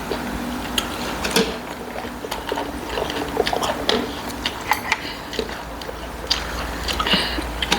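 Close, crisp crunching and clicking bites come in irregular bursts as someone chews a crunchy Thai jellyfish salad near the microphone.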